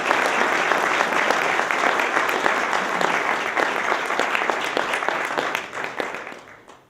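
Applause from an awards ceremony audience, a full burst of clapping that stays strong for several seconds and then gradually thins and fades out.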